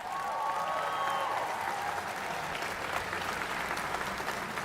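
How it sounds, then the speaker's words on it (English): A large outdoor crowd at a Fourth of July celebration at the National Archives claps for the Air Force, with loud, continuous applause throughout and a few whistles cutting through early on. "Y'all give your Air Force a hand clap."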